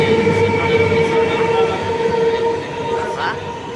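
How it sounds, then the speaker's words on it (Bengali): A train passing at Naihati railway station, a loud continuous rumble with sustained horn-like tones throughout, close and overpowering. "ট্রেনের আওয়াজে কথা বলার উপায় নেই।"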